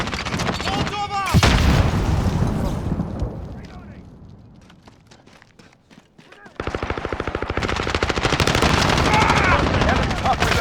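Grenade and molotov blasts erupt in a Call of Duty Modern Warfare team deathmatch on the Hovec Sawmill map, loud and near, with booming bursts amid continuous rapid automatic gunfire.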